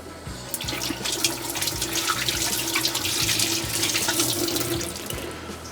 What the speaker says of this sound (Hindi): हाथ धो लेते हैं और फिर आते हैं।